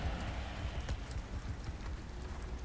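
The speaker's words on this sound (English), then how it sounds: "It's hailing on my head." Hail falling in the underwater survival game Subnautica Below Zero, a dense, steady patter of small impacts with faint scattered clicks, fairly quiet and without any voice.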